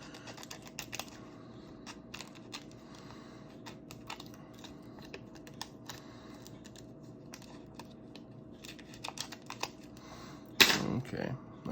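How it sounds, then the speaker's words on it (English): Small scissors snip during an iPhone 7 screen replacement, giving faint, close clicking cuts scattered across a quiet workbench hum, followed by a louder rustling burst at the end. "I'll take a little pair of scissors and cut right here"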